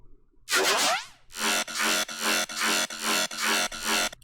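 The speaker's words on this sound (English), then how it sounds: "So the mid basses sounds like this" A gritty synth mid-bass from a track opens with a swooping sweep, then pulses through a steady run of chunky, evenly spaced notes, loud and up front.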